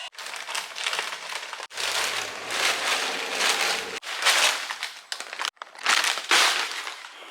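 Vinyl wrap is peeled off a C5 Corvette in long crinkling, crackling tears, several pulls separated by short pauses, close and fairly loud with no speech.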